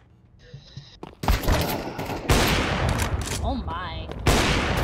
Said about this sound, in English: This guy's gun is loud. AK is indeed very loud.